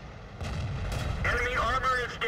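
Tank cannon shots strike home in World of Tanks, with a Cromwell tank in the fight, as several heavy booming impacts land over steady low rumble while someone talks through it.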